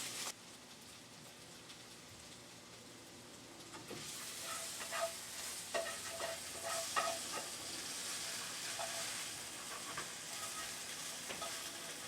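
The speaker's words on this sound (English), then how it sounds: "I'm going to cook them until the moisture's off them." Rinsed snow peas cook in a pan: quiet at first, then a soft, steady sizzle builds and carries on with light crackles and stirring, no talk.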